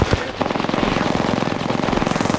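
Rapid automatic gunfire in the Apex Legends video game, a loud sustained burst of closely spaced shots rattling without pause for a couple of seconds after a sharp opening crack.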